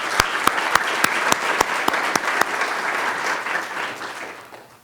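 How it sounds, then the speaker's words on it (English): Audience applause at a greenhouse seminar at the Academy of Natural Sciences of Drexel University, with sharp separate claps over dense clapping that tapers off toward the end. "Can we give them a round of applause?"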